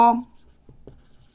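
During a maths lesson, a short burst of a voice gives way to faint, scattered taps and scratches of writing on a board, quiet and close.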